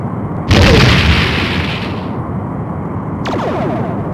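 Starship firing a torpedo in the game Star Trek: The Next Generation – A Final Unity: a sudden loud booming launch with a hissing tail that fades out, followed by a second rising whoosh.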